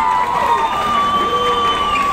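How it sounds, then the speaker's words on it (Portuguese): Crowd cheering and applauding along the route of a Brazilian Independence Day civic parade in Arapiraca, a dense continuous roar of voices and clapping with a steady whistle-like tone running through it. "Vamos aplaudir a Arapiraca!"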